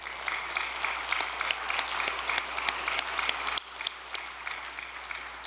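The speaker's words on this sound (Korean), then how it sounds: "박수 한번 칩시다." An indoor audience claps together in steady, dense applause, which drops in level partway through and continues more softly to the end.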